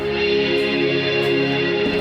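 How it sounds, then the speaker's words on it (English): A sustained synth pad chord from the Vital synthesizer, washed in reverb, smooth and spacious, playing alone without any voices. "Let's put a reverb now"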